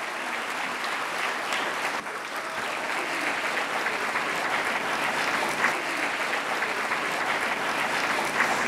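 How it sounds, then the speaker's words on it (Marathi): A hall full of students claps loudly and continuously for Padma Shri eye surgeon Dr. Tatyarao Lahane, the sustained applause holding an even intensity throughout with no voice above it. "जोरदार टाळ्या."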